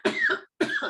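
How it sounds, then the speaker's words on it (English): Two sharp coughs in quick succession, close and fairly loud, separated by a brief pause. "And cough."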